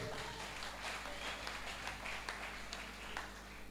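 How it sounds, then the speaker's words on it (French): Congregation clapping during a church service, a faint, diffuse patter of applause over a low room hum. "Clap for them."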